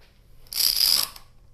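Clamping glued woodworking tool holder parts: a brief ratcheting rasp of a clamp being tightened, close and moderately loud, lasting about half a second in otherwise quiet surroundings.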